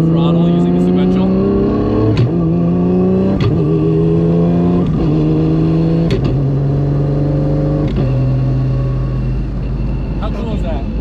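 A 1200 hp Mustang engine pulls through repeated partial-throttle runs on a sequential gearbox, its loud, close exhaust note climbing and then dropping sharply at each of about six quick gear changes over steady road rumble.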